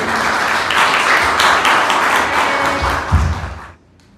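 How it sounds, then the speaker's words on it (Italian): Warm applause from an audience at an outdoor Sicilian poetry award evening in Alcara Li Fusi welcomes a folk poet, a dense burst of clapping that fades out near the end after a thump. "accogliamola con un bel applauso"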